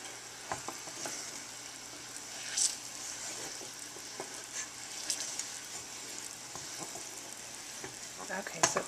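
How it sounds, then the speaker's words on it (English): Caramel icing bubbling at a boil in a pan, with a steady frying-like sizzle and repeated scrapes and clinks of a spoon stirring through it, close and continuous. "Looks like it's boiling again."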